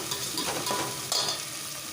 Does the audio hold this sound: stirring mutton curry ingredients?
yes